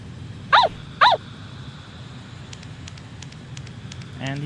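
Small dog in the horror video game Yomawari: Midnight Shadows gives two sharp barks in quick succession, then a quiet stretch of low ambient game noise with faint ticking.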